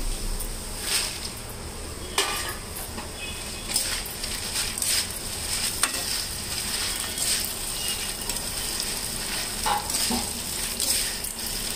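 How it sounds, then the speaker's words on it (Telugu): Dried red chillies frying slowly over a low flame in a pan, giving a soft, continuous crackling sizzle broken by occasional scraping stirs, with no voices. "కాస్త సిమ్లో పెట్టుకొని నెమ్మదిగా వేయించుకుందాం."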